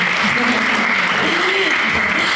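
Audience applause after presenters on a free guidance tool for educators and parents of gender diverse children, a brief burst of dense clapping with a voice or cheer rising faintly beneath it.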